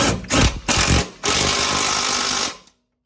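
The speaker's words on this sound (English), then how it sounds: "I used a wrench and a socket here." A power tool with a socket drives rear brake caliper bolts on a Nissan S14 fitted with GKTech dual calipers, giving two short rattling bursts and then a steady, loud, close run that cuts off abruptly.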